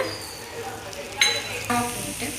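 Sweet potato with added sugar is stirred in a pan for laddu, giving a soft, low sizzle with two brief spoon clinks and scrapes against the pan.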